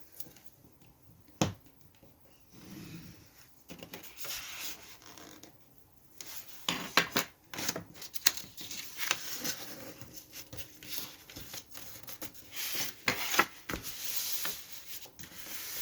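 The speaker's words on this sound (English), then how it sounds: "I want to make an inch line, scoring here." A blade scoring a one-inch line on paper along a ruler for a tag accordion booklet, heard as faint, close rasping and scraping strokes with small ticks in a quiet room.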